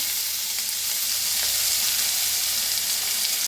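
Chopped onion with mustard seeds, cumin and asafoetida sauté in oil in a pan, a steady close sizzling hiss with faint stirring throughout.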